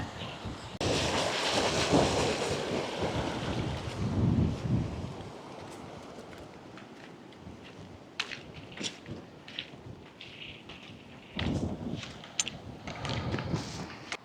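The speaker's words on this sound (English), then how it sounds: "Quite breezy at the moment" Breezy wind gusting across an open mountainside at the Narnain Boulders below the Cobbler, loud rumbling buffets for the first five seconds, then quieter gusts with faint bursts returning near the end.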